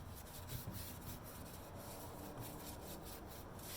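Dark Annie Sloan wax is rubbed by hand into painted wooden furniture over a clear coat, giving soft, faint scrubbing strokes in a steady back-and-forth rhythm, with no voice.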